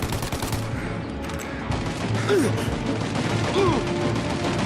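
Rapid bursts of gunfire crackle through a shootout in the video game Mafia: Definitive Edition, dense and loud and overlapping under shouted voices, with sliding ricochet-like whines.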